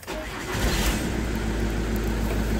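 A 2005 Ford Mondeo 3 with a 2.0 TDCi diesel engine, showing a check-engine warning, cranks and fires up, then settles into a steady, loud diesel idle with no talking.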